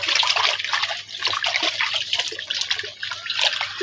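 Water runs and trickles steadily as freshly picked home-grown fruit is rinsed under it, a close, continuous splashing flow with small dribbles and drips and no talk.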